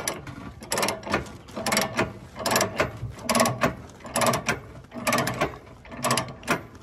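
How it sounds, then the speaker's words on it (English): A ratchet strap is cranked down to secure a mini excavator on a tilt deck trailer, giving close, rhythmic bursts of clicking pawl action, about a dozen even strokes with no talk. "Ratcheting down a lot smoother."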